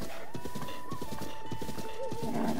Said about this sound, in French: Notre premier cheval, comment on va l'appeler?